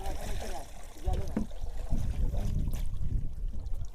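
Bombay duck fish are washed in water, with low sloshing, splashing and handling noises close by, while muffled talk runs underneath.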